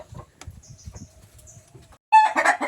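A hen clucks in low, soft bursts, then breaks into a louder, sustained run of squawking calls near the end, close by with no talk.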